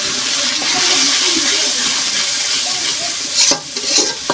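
Ground garam masala, cardamom, cumin paste, salt and turmeric fry in a pan for a Bengali koi fish curry, giving a loud continuous hiss with stirring scrapes that swell near the end, and no voices.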